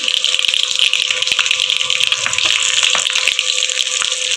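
Chilies crackle and sizzle in hot oil with mustard seeds and sesame for a Gujarati tempering before tomatoes go in, a loud continuous spitting fry with sharp pops and no voices.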